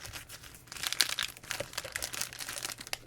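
A Ziploc plastic bag holding instant noodle sachets crinkles and rustles in close, irregular bursts, with crisp crackling peaks and brief pauses between handlings.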